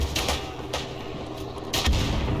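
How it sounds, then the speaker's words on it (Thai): Gunfire in a World War I battlefield game: several sharp, fairly loud shots spaced irregularly over a steady low rumble of combat, with no talking. "เสียงยิงจากข้างหน้าเลยปะ"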